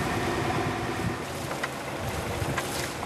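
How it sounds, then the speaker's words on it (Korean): Rough sea surges around a mackerel fish farm off an island at the southern tip of Tongyeong, with a steady roar of wind and waves, gusts buffeting the microphone and occasional splashes and knocks, no voices. "높은 파도를 따라 들썩이는 양식장"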